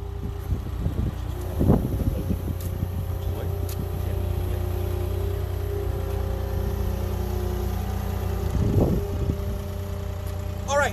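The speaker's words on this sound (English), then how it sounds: "we can watch Ben drive the skid steer around the course some more" A skid steer drives around a course, its engine droning steadily at medium distance with two louder surges, and a voice talks over it.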